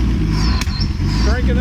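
A 1950s car engine running loud and close, its low rumbling throb steady throughout, with voices talking over it.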